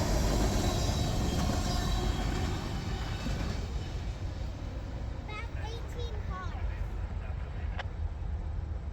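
Diesel locomotives pass on the railroad with a heavy, continuous rumble and rolling wheel noise, loud and close throughout, with faint squeals and a voice briefly audible partway through.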